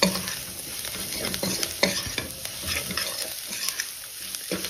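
Masala being stirred and roasted in a pan over a low flame for traditional Bhogichi bhaji, a soft steady sizzle with repeated scraping strokes of a spoon against the pan, close and fairly quiet, with no talk.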